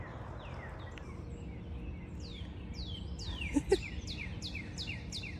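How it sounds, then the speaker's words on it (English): Birds singing outdoors on a Saturday morning in a front yard, a series of repeated descending chirps and whistles coming faintly from some distance over a soft outdoor background, with no talk. "Can y'all hear all those birds?"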